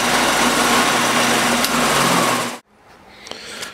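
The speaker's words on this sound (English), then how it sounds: "I've set the lathe so I can cut the face a little bit" Wood lathe spinning and cutting the face of a wooden bracelet made from floorboard, a loud steady whirring hum with gritty cutting texture that cuts off sharply, leaving faint clinks and shuffling.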